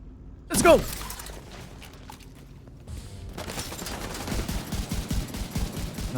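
Gunfire in Tom Clancy's The Division 2: a sharp burst near the start, a quieter stretch, then rapid repeated shots building steadily toward the end.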